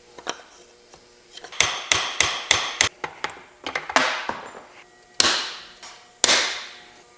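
A hammer strikes metal in sharp, ringing taps during the teardown of a Rokon motorcycle, first quick clustered blows and then slower single hits that echo briefly in a quiet workshop.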